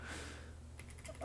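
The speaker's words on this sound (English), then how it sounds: "Keyboard's dying." Typing on a computer keyboard with a failing, worn-out board, heard as a faint run of quick clicky keystrokes over steady background hiss, growing denser in the final half second.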